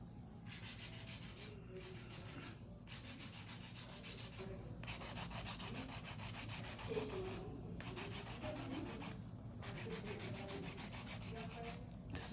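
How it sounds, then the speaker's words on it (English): An acrylic nail is hand-filed with a 100/100 grit nail file in quick, steady rasping strokes, close and fairly quiet, broken by short pauses between bursts. "This is just hand filing"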